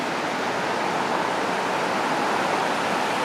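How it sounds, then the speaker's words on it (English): The Rocky River rushes below a bridge near Berea Falls, swollen from snow and rain, a steady broadband roar heard from a distance and uninterrupted throughout. "And down there, the mighty, swollen Rocky River"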